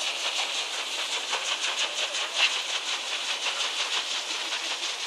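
Steady broadband hiss of steam venting aboard the Kingswear Castle paddle steamer at Totnes, continuous and fairly close with faint pulsing, no talk.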